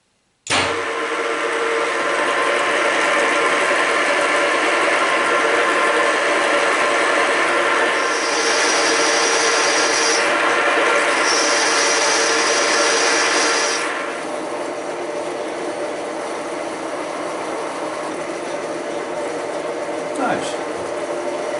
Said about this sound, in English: I think it's maybe a good idea to first drill holes so I can mount it in the T-slot